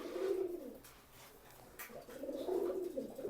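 Prince Kamagar pigeons cooing in low, throaty bursts, two rounded coos separated by a brief lull, close by with no talking.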